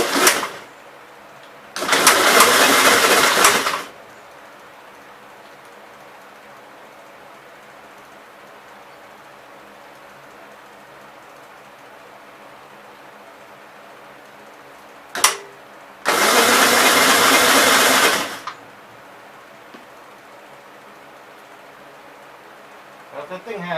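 A 1957 Gravely tractor engine cranks in two separate bursts of roughly two seconds each, with quiet pauses between them, and does not catch. The churning cranking is loud and close.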